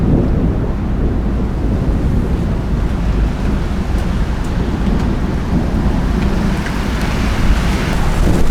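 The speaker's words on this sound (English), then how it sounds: "Here comes the rain." Heavy rain from a desert thunderstorm in Las Cruces, New Mexico, a steady close roar of downpour, with rain pouring off a roof, continuous and loud throughout, no voices.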